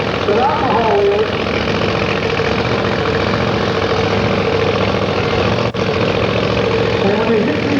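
An alcohol-fueled funny car engine idles loudly at a drag strip with a constant rough, throbbing rumble, while someone talks over it.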